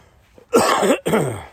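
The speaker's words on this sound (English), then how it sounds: "I was coughing quite a bit this morning" Two harsh coughs in quick succession, close and fairly loud, with a faint breathy sound just before.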